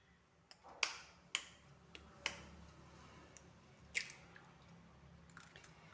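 Shredded cabbage with spices and a beaten egg is mixed gently by hand in a bowl, making soft wet squishing sounds with a few sharp sticky clicks, quiet and close, with no talking.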